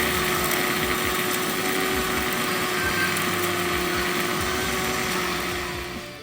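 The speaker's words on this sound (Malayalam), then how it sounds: "ഗരം മസാലകൾ ഉണ്ടല്ലോ അത് മിക്സിൻ്റെ ജാറിലേക്ക് ഇട്ട് കൊടുത്തിട്ട് അതൊന്ന് പൊടിച്ചെടുക്കാൻ" Steady, loud motorized whirring of a mixer grinder grinding garam masala spices, running continuously throughout, with no breaks and no voices.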